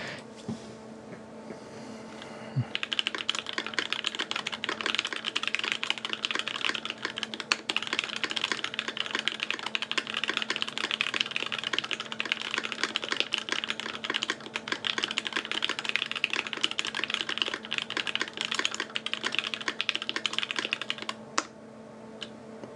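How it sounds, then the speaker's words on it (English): Someone types on a Viktus Deltablade mechanical keyboard, a dense run of quick, crisp key clicks and clacks, close and continuous for about twenty seconds after a short quiet start. "we'll go finish this with another typing test"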